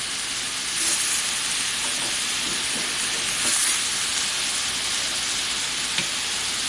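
Pork ribs with tomatoes simmering in a pot for a garam masala and lentil dish, giving a steady, close hiss and gentle bubbling with faint stirring touches, no voices.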